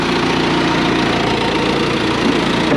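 A direct drive machine's engine runs steadily at a Ritchie Brothers auction yard in Florida, a loud, constant idling rumble with a low knocking pulse and no pauses.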